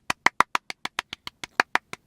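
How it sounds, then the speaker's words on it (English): One person claps alone in a steady, even rhythm, about a dozen crisp, close hand claps over two seconds with no talk. "round of applause for them."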